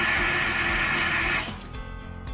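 Water runs steadily into a bathroom sink fitted with a pop-up stopper, then the flow cuts off and leaves a few faint drips and gurgles at close range.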